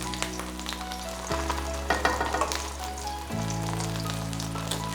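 A Korean pancake sizzles steadily in a hot pan just after being flipped, a close, continuous frying crackle with no talking.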